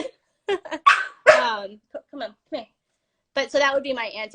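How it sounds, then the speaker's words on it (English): A dog barks in the background behind a person speaking, several short sharp barks scattered between phrases, with a burst of barking near the end overlapping the voice. "that's my dog in the back"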